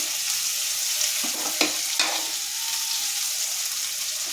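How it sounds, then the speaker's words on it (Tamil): Bell pepper sautés in a hot pan for mushroom Manchurian, giving a steady close sizzle with a few light stirring clicks. "குடமிளகா வந்து ஜாஸ்தி வேக வைக்கிறதில்ல, நல்லா கடி வர்ற மாதிரி கொஞ்சம் ஒன்றும் பாதியுமாக அதை வதக்கணும்"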